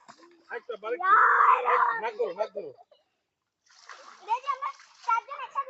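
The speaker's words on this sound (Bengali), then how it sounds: "দেখে ও ডুব দিচ্ছে" A child dives and splashes in village pond water, short splashes and sloshing mixed with children's voices and adult talk, a brief quiet gap before more splashing and chatter.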